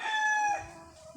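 A rooster crows once, close and clear, in a short drawn-out call that fades away, from chickens kept in hot summer weather and being bathed with water.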